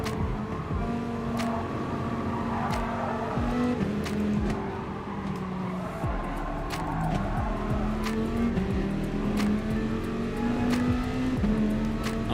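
Viper race car in Gran Turismo Sport lapping steadily, its engine droning loud and continuous with rising and falling revs through gear shifts, plus short bursts of tire squeal.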